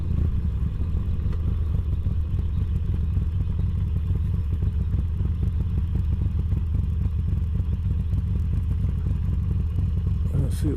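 A motorcycle idles at the lights on tick over, a steady low rumbling engine throb with faint clatter, close and constant throughout, no voices.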